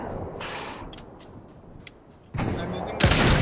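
Gunshots from the video game Fortnite, a sniping fight: a burst of loud sharp shots near the end follows a quieter stretch of game sound under faint voices.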